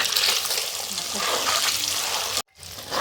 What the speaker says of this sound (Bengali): আমার ডিমগুলো লাল লাল করে ভাজা হয়ে গেছে